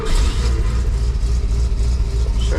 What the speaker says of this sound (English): Sure sounds like an old engine.